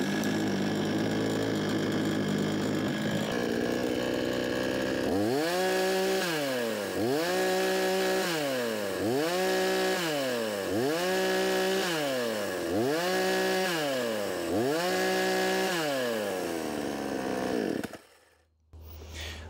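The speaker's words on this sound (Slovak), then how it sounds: "píle som trošku brnkal na voľnobeh, to ste mohli vidieť" A Parkside Performance PPBKS 56 A1 petrol chainsaw idles, then is blipped in seven or eight repeated rising-and-falling revs, loud and close, before cutting off abruptly near the end.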